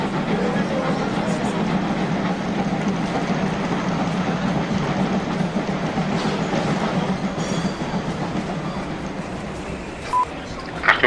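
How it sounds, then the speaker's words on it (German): A heavy freight train rumbles past steadily and close, a continuous low roar with rattling and faint clatter throughout, without any talking. "ein Güterzug fährt durch"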